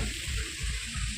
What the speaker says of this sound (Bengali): দেখতেই পাবে যে সব সবজিগুলো এক এক করে ভাজা হচ্ছে